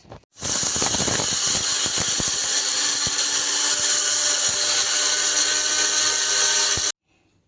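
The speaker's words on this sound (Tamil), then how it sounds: "வறுத்ததை இப்போ மிக்சியில் போட்டோம் அரைக்க போகிறோம்" A kitchen mixie grinds roasted urad dal into powder, a loud continuous motor roar with rattling grains that starts abruptly and stops after about six and a half seconds.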